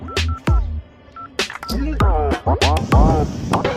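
A phone number is dialed as short, clear keypad tones beep in a quick series, mixed with a voice and other nearby sounds.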